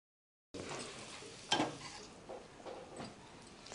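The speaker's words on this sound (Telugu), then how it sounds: "సో పోపు కూడా పెట్టేసుకున్నాము" Hot oil tempering for a brinjal pickle, a soft sizzle with a sharp crackle burst after a short silence and quieter popping that fades, no talk over it.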